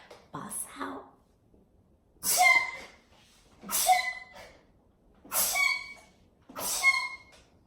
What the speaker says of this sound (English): That is my real sneeze.